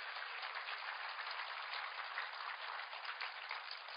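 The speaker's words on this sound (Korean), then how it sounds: "하나님께 감사의 박수야. 감사의 박수." A church congregation applauds in thanks to God, a steady, even wash of many hands clapping together, fairly faint and distant, with no voices over it.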